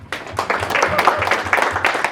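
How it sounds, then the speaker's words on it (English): A crowd at a sales meeting applauds, a dense, steady wash of many hands clapping at once that holds for about two seconds with faint voices mixed in. "you guys deserve a big round of applause"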